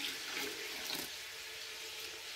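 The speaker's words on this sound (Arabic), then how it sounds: "عندي كسرونه عامره نتاع الماء اللي غادي ندير في هذا الرز" Water pours steadily from a container into a pot of rice for cooking, a brief bright rushing splash that stays loud throughout with no talk.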